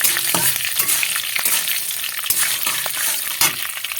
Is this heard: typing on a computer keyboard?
no